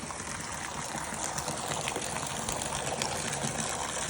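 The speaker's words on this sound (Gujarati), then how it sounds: "વાડીએ જોરદાર વરસાદ પડે છે" Heavy rain falls steadily at a farm, a dense, continuous wash of water with no pauses, trickling and splashing evenly throughout with no voices.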